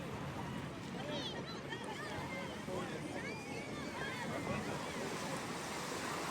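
Sea waves and wind at the shore, a faint continuous wash of surf with wind buffeting the microphone, while people talk and chatter over it.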